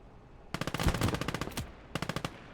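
Anti-aircraft gun barrels in the wartime game Gates of Hell firing rapid automatic bursts, a long rattling volley of closely spaced loud reports followed by a shorter burst after a brief pause.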